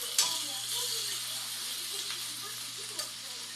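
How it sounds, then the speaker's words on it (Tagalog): Cabbage is stirred into frying chop suey in a pan, giving a steady close sizzle with a sharp scrape near the start and another soft knock toward the end. "lagyan na natin yung repolyo. Ayan, haluin natin dyan."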